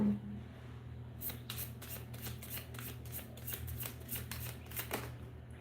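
Deck of affirmation cards being shuffled close up, a quick run of crisp riffling flutters lasting several seconds in a quiet room, with no speech.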